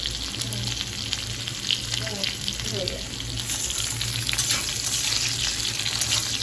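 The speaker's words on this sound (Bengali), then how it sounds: "কুমড়ো আর আলু ভেজে দিচ্ছি" Pumpkin and potato pieces frying in a pan give a steady, close sizzle that runs throughout, with faint watery clatter and soft background noise, and there is no clear talk.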